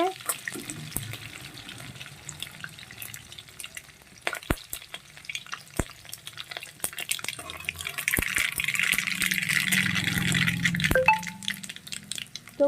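Mustard seeds, dried red chillies and green chillies splutter in hot oil for tempering, giving scattered sharp pops and crackles over a rising sizzle that grows louder and busier partway through.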